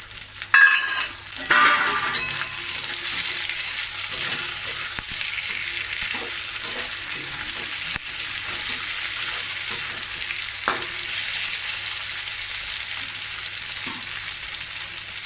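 Chopped tomatoes hit a hot pan for khichuri and fry with a loud, dense sizzle, while a spatula stirs and scrapes through them now and then.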